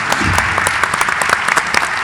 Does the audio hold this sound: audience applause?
yes